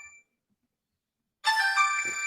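An electronic phone ringtone cuts in loud and close after a short silence, a bright sustained melodic tone that keeps ringing to the end.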